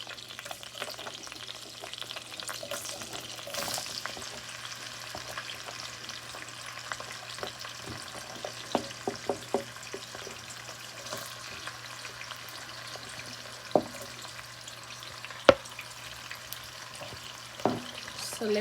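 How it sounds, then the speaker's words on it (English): Onions and potato leaves frying in a pan, a faint continuous sizzle with a low steady hum beneath and occasional soft clicks and stirring taps, no talking. "So let that fry down a little bit."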